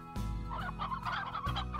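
Hens cluck in a Slime Rancher game world, a busy run of short fowl clucks and gobble-like calls repeating steadily over about two seconds, loud and close with a sustained game-music drone underneath.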